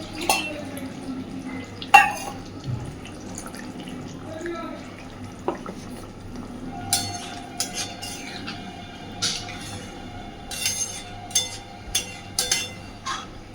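Water added to a pan of pangas fish curry cooked in oil and chilli, with a few splashes, drips and scraping spoon or pan clinks in a kitchen while someone talks over it.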